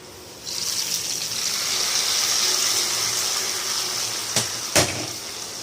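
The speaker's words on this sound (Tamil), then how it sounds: "இப்போ வந்து இதை அப்படியே குழம்புல தூக்கி ஊற்றுவோம்" Hot tempering poured into a pot of tamarind curry with cowpeas gives a steady gushing, hissing pour lasting several seconds, ending with two sharp clinks, no talking.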